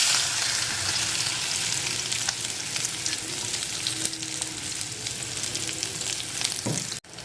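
Spice masala frying and spluttering in hot oil with mustard seeds for a Kerala dal curry (parippu), a steady dense sizzle close by with faint stirring scrapes, the crackle cutting off abruptly near the end.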